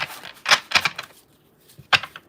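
Tarot cards being shuffled give a few quick, crisp riffling bursts close to the microphone, separated by short pauses, with no talking.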